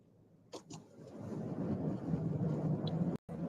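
A car drives through bad weather on the way to work, with a steady low rumble of engine and road noise swelling close by, a few brief knocks near the start and a short dropout near the end.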